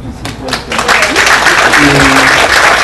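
Audience applause at an international scientific conference swells after a brief voice, becoming a steady, fairly loud wash of clapping that fills the room.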